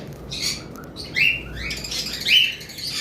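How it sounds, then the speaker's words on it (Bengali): Pineapple and yellow-sided conures in a bird shop give repeated sharp, bright chirps and squawks, loud bursts standing out over a steady background hum with some faint wing flutter. "আর বাকি আমাদের কাছে আরও পাইনাপেল ইয়েলো সাইডেডও রয়েছে আমাদের কাছে, এই যে দেখতে পাচ্ছেন, ইয়েলো সাইডেড কোনোর বলা হয়"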